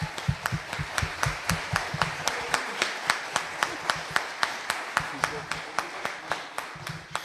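A church congregation claps in steady rhythm, keeping an even beat throughout while a voice speaks in Portuguese over it.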